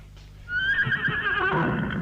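A horse whinnies in a single long, rising and falling neigh, close and loud, as a sound effect in a Turkish radio drama about Köroğlu.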